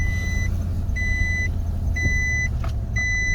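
A Y62 vehicle's cabin during a short drive and stop, with steady low engine and road rumble and a regular electronic beep chiming four times at even one-second intervals, no talking.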